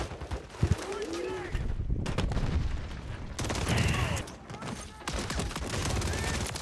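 Bursts of rapid gunfire and shots crackle throughout a Call of Duty Modern Warfare 3 multiplayer match, dense and continuous amid game effects, with voices talking over the action.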